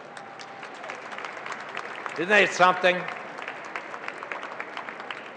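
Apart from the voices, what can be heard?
audience applause for a choir member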